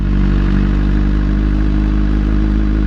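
A motorcycle rolls along in first gear with a loud, steady low engine drone and some rattling, close and continuous throughout.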